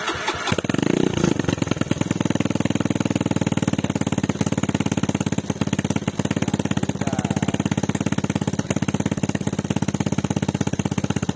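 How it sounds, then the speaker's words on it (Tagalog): A Suzuki Raider J115 Fi motorcycle starts up and settles into a loud, fast, steady idle with a rapid rhythmic putter through its power pipe exhaust, heard up close. "So pakinggan natin yung ating power pipe."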